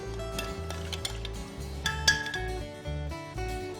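A spoon clinks and scrapes against a bowl while milk and corn flour are mixed for a sauce, with light irregular taps over steady background music.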